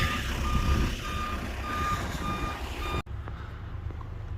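A truck reverses near a snowy barn, its backup alarm beeping in a steady repeating rhythm over a rumbling engine for about three seconds before cutting off abruptly, leaving quieter ambient noise.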